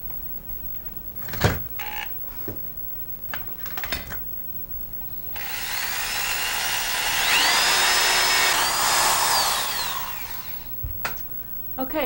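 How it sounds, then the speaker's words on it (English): A power drill bores a pilot hole into an oak threshold, a rising whine lasting several seconds in the middle, framed by scattered taps and handling knocks of tools and wood before and after. "I've got a drill bit on here a little bit smaller than the size of the nail."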